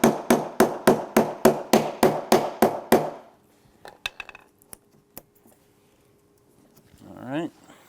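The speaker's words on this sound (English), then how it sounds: "Now we're gonna hammer the legs for the mid shelf on, repeating the exact process." A mallet strikes the legs of a Griot's Garage Ultimate Detailing Cart onto its middle shelf: ten evenly spaced loud, sharp blows, then a few lighter taps and rattles, and a brief murmur of voice at the end.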